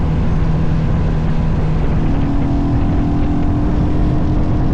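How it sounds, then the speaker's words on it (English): A Royal Enfield Hunter motorcycle accelerates hard to overtake on a group rideout to Dungeness, its loud, close engine drone climbing in pitch over constant wind rush, with no talking. "let's see if my little Hunter has got the oomph to overtake as well"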